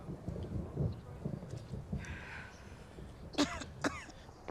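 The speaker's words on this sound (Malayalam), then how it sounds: "കണ്ടോ ചുമക്കുന്നത്?" A person coughs in a cold, rain-threatened setting in a Malayalam film scene: two sharp, close coughing bursts come near the end over a quiet, low rumbling background.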